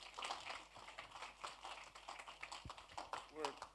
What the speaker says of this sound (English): Let's give him a big round of applause and welcome him, extra big round of applause